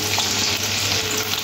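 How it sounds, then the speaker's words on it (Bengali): Minced garlic sizzling in hot oil left from frying chicken pieces, a close, steady, bright crackle with faint stirring, no voices. "ওই তেলের মধ্যে দিয়ে দেবো রসুন কিমা"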